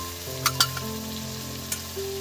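Cashews and red chilli dropped into sizzling spices in a pan, a steady close crackling fry with a few sharp clinks and bumps as they hit.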